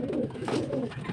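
A pet bird, pigeon-like, coos once in a soft low murmur, close by over faint background noise.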